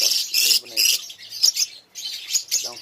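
Pet lovebirds squawk and chirp in rapid, loud bursts close by while being fed bitter gourd, with brief pauses between their calls.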